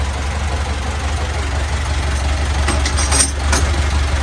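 An old diesel truck engine idles with the throttle set too high, a steady loud low rumble throughout with a few brief rattling bursts near the end.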